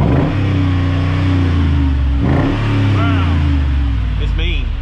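A loud, deep engine rumble from a Mercedes G55 AMG through side exhaust pipes, revving up and settling in pulses, with a brief voice near the end.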